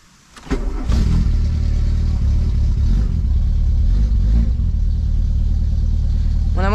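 A Volkswagen Golf 2 turbo engine cranks and catches near the start, then runs loud and steady at a rough idle with slight revving throughout, close to the listener.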